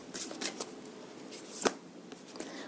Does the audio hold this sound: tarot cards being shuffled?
yes